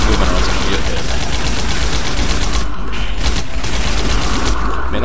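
Dense, continuous gunfire and explosive bursts from the top-down video game Alien Shooter, fighting aliens funneled into a hallway, roar without pause under a layer of speech.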